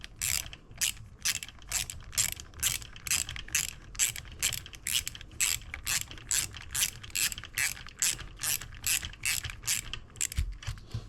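A hand ratchet tightens a bolt on a Can-Am DS 450 quad, giving a long run of quick, evenly spaced clicking strokes, close and fairly quiet, repeating steadily with brief pauses between bursts.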